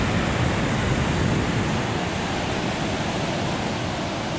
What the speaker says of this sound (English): Probably hearing the roar of the ocean.